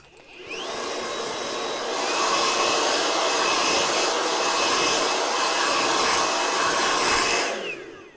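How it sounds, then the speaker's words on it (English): A handheld blow dryer drying hair at a styling event gives a loud, steady rushing whoosh that runs for about seven seconds before cutting off. "So let's use the blow dryer to wipe out the extra hair here."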